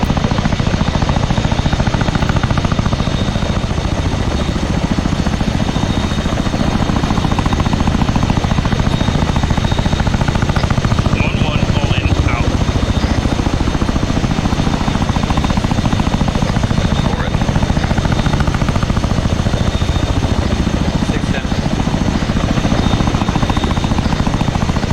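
Chinook helicopter rotors and engines in ArmA 3 make a loud, steady droning thrum, close by and constant throughout, with faint voices mixed beneath.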